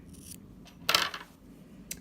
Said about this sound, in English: then just take your scissors and snip it